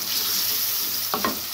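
Masala fries in a pan on a medium flame while making shaljam palak chicken, a close, steady hissing sizzle with a couple of brief stirring scrapes near the end.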